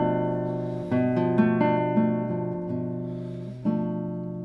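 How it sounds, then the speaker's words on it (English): A B half diminished seventh chord rings out on a sustained keyboard-like instrument, struck again and revoiced a few times, clear and close with no voice. "it would be a B half diminished seventh chord"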